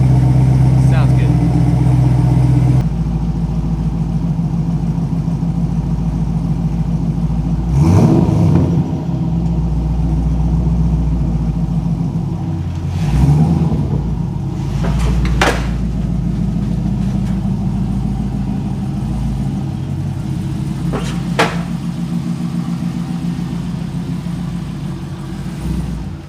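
Ford Mustang Mach 1 with a six-speed, long-tube headers and a full stainless exhaust idles with a deep rumble and is revved in several short bursts, with someone talking over it.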